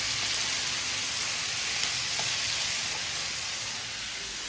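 Steady sizzling hiss from ingredients frying in a pan for a Tamil-style country chicken curry, a constant close broadband sizzle with no talking.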